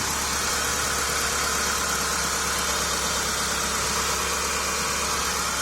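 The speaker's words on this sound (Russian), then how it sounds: "Работа двигателя 4G64 MPI." A Mitsubishi 4G64 MPI engine idles steadily, a constant low mechanical hum and clatter with no revving, unchanging throughout.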